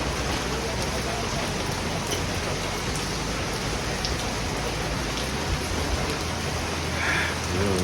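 Steady rain pours down in Dhupguri, a dense, even hiss of drops hitting surfaces, with faint voices in the background.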